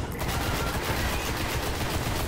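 A weapon fires continuously in the Destiny video game, a dense, loud, unbroken rattle of gunfire with no pauses throughout.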